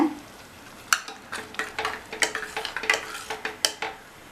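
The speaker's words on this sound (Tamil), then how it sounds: "இதை நல்லா கலந்து விட்டுடலாம்" A spoon scrapes and clinks around a metal pot of sambar with tamarind water in quick irregular strokes, close by and fairly quiet, with a faint sizzle underneath.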